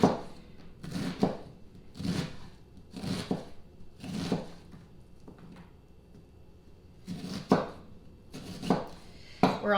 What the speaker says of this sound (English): The first thing we are going to do is chop up half of an onion